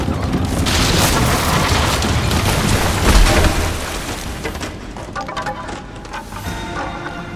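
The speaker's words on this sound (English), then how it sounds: "Okay, big explosion." A big explosion in the Tomb Raider video game booms loudly with a dense rumbling roar, then tapers into scattered crackling debris and settling rubble.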